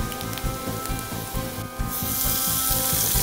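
Chili, onion and tomatoes sizzle and crackle steadily in a hot pan for veg momo filling, a dense close frying hiss that swells louder toward the end, with no talking.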